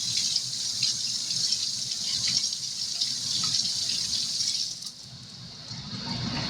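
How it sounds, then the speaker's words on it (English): Running water from a tap pours steadily over a barbecue basting brush being rinsed in a sink, a continuous hiss that eases briefly near the end. "You rinse this brush off."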